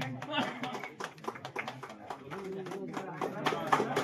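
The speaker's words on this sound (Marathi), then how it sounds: "जोरदार टाळ्या वाजल्या पाहिजे" Audience applause at a village friends' association anniversary ceremony in Varvade, a dense, steady patter of many hands clapping close by, with chatter and voices mixed in throughout.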